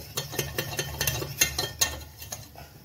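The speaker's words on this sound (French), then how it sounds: "on est en train de faire un roux. On va pas trop le cuire, on va faire un roux blanc" A utensil stirs a white roux of butter and flour for béchamel in a pan, making quiet rhythmic scrapes and taps, about a dozen evenly spaced strokes over a low sizzle, with no voices.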